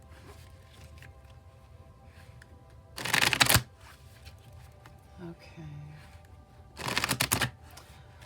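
A tarot deck is riffle-shuffled in two quick crisp bursts of card flutter, each lasting about half a second, with quiet room sound between them and a brief spoken word.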